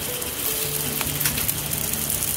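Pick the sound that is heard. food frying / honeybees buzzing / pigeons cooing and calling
food frying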